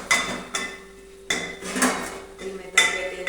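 A cooking pot of food being stirred after salt is added, the metal utensil scraping and clinking against the pot in several distinct bursts with ringing tones, close and fairly loud, with no talk.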